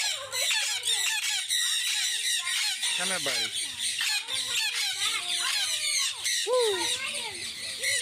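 A pet parrot squawking and screeching repeatedly at close range, harsh calls scattered across the clip while a person talks and coaxes it.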